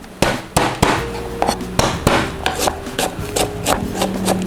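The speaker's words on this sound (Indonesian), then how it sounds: "Selanjutnya kita mau cincang-cincang bawang putih." Garlic is roughly chopped with a knife on a board, a loud, close series of sharp thuds and knocks in an uneven rhythm with no talking.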